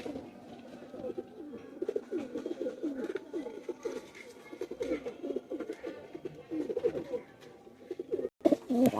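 A pair of band-necked pigeons coo continuously in low, throaty, rolling phrases close by, steady and fairly loud, with some background noise.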